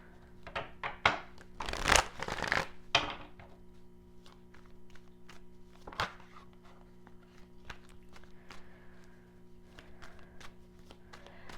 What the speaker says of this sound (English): I want the card to flip over or hit the table like that